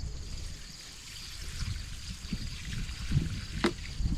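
Water glugs and splashes as it pours out of a plastic jug, a gurgling trickle that grows louder toward the end, with no talking.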